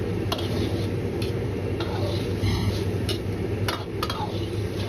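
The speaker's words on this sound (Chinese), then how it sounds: "在鸡蛋液完全凝固后，再用勺子慢慢的推动，划成大小均匀的块儿。" A spoon slowly pushes and breaks set egg into even pieces over tofu in a pan, giving soft scraping and light clinks over a steady low sizzle, with faint ticks scattered through.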